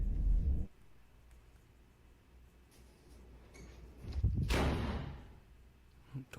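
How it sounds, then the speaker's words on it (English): A door slams shut on its own behind someone inside a building, one loud broadband thump around the middle of the stretch, rising out of quiet room tone after a brief low rumble at the start. "the door behind him slams shut on its own"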